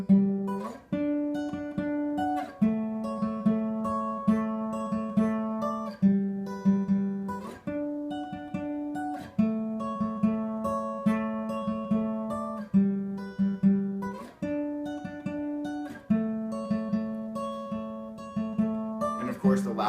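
An acoustic guitar strums a repeating chord progression, each chord ringing out in a steady rhythm, clear and close with no voices.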